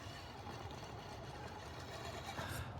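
Losi Night Crawler RC rock crawler truck motor being throttled up, a steady buzzing whine holding at even loudness throughout, close and continuous with no voices.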